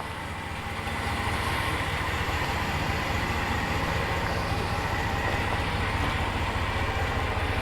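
A 2019 RAM 1500 Big Horn pickup idles with a subtle, steady exhaust rumble, low and continuous with no talk over it.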